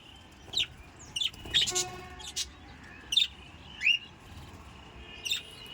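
A few birds call outdoors on a rooftop, with scattered short chirps and tweets spaced a second or so apart over low background noise, moderately close and fairly soft, no talking.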